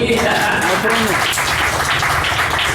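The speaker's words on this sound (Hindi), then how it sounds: "बजाओ ताली" An audience at a religious discourse in Mathura breaks into dense, sustained clapping that swells up right after a voice and fills the rest of the moment.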